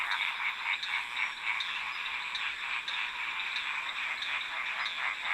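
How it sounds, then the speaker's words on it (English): A dense chorus of frogs calling together in a Madagascar forest, steady overlapping trills and pulsing croaks that fill the whole stretch at moderate loudness, with no other sounds standing out. "As more and more frogs join the chorus, the intensity of each individual increases"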